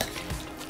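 Potato salad seasoned with salt and black pepper being stirred and mixed in a bowl, a brief soft scraping and squelching stir, close and quiet with no talking.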